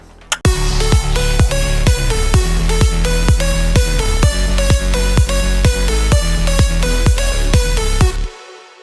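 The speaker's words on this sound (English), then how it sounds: "it is a progressive house track with a lot of plucky synths" Progressive house track built on plucky synths, with a steady four-on-the-floor kick driving bright staccato synth chords in a loud, even groove that stops near the end.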